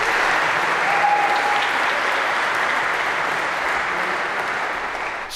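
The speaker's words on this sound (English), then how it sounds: "maybe a round of applause for our 3 volunteers" A large lecture-hall audience applauds three volunteers in a computer science class, a loud sustained roar of many hands that stays full for several seconds before easing slightly at the end.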